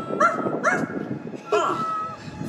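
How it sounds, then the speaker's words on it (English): A ghost dog character barks and yips a few times during a Disney Halloween fireworks show, short bright calls standing out over a murmuring crowd background. "Where is that dog?"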